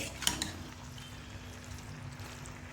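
Okra cooks with spices in a pan, a faint, steady sizzle with a brief clink of a utensil near the start, otherwise quiet and even throughout.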